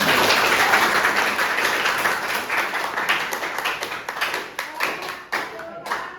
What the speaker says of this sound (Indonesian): kita tepuk tangan yang paling meriah